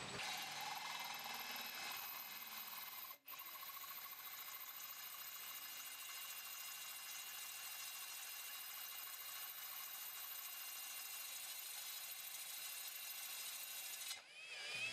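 Continuous high-pitched grinding drone of a cordless drill boring a pilot hole into a cast iron soil pipe, steady and close for the whole stretch, with a brief dip near the start and another near the end.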